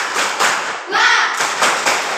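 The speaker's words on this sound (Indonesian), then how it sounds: "Tepuk semangat" Children in a classroom do the 'tepuk semangat' clapping chant, quick bursts of close claps and thumps with a short shouted group call in the middle.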